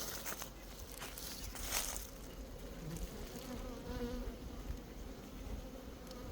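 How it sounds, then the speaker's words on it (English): Honey bees buzz around a productive beehive during a late-season honey harvest, a faint, continuous swarm drone with no speech over it. "these few bees. This is our rock star hive."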